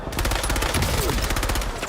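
Rapid automatic gunfire from a Warzone match blends into a dense, continuous burst of overlapping shots that stays loud and steady throughout.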